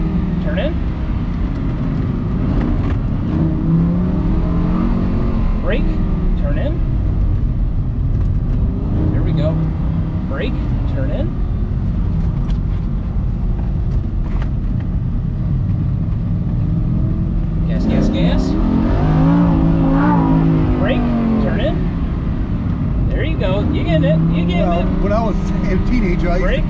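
A Lamborghini Huracan or Ferrari 458 supercar engine revs through paddle-shifted gears on a race track, a steady loud drone with rising and falling sweeps, while people talk over it.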